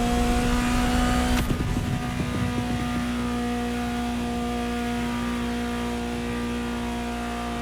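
A Ferrari GTO, a special version of the 308 GTS, idles and revs in The Crew Motorfest, a steady loud engine drone with strong harmonic tones, a brief rev surge early on, then an even, sustained hum with no voices.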